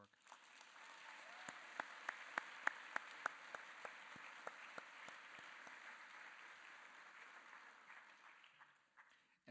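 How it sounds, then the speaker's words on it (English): An audience at a school recognition ceremony applauds, a sustained patter of many hands with distinct sharp claps near the front and a few tonal cheers early on, fairly faint and tapering away at the end. "So please give a round of applause for all of their hard work"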